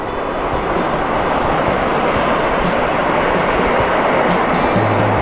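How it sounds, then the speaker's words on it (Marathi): Steady, loud roar of sea waves washing onto the shore at Devbag, Malvan, where a river meets the sea; continuous and broad, with no voices. "इकडं लाटा म्हणजे इकडे समुद्र आहे"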